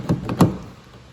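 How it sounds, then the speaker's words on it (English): The door locks of a 2015 Honda Civic EX-L engage through keyless comfort access, giving two quick, close mechanical clunks one after the other, then a fading hum. "lock and unlock the doors from here without pushing the button on the key"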